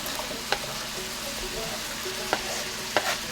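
Fresh vegetables fry with nearly cooked ground beef in a pan for a beef shepherd's pie. A continuous, moderate sizzle fills the clip, and a few sharp utensil clicks cut through. No one talks.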